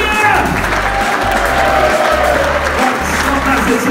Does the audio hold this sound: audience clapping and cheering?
yes